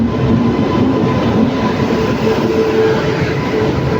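Secunderabad SF Express train running steadily past the Eastern Ghats, a loud continuous rumble of wheels and carriages with faint rail clatter and no talk.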